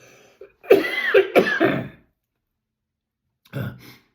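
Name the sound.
coughing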